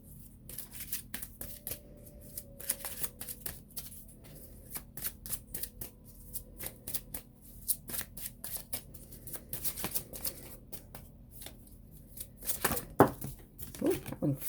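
Doreen Virtue flower therapy cards are shuffled by hand close up, crisp riffling and slapping bursts repeating throughout, with faint voice in the background.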